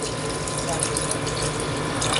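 Water pours steadily from a tap into a cooking pot for a pork kinamatisan dish, a continuous close splashing rush with no talk over it.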